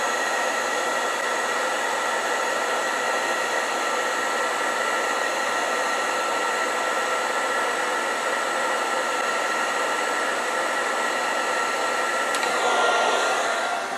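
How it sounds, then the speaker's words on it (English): A large heat gun blows hot air onto heat-shrink tubing with a steady, even whoosh and a faint tonal whine, followed by a brief rustle near the end, with no voices. "Let me grab my big heat gun and we will shrink that down."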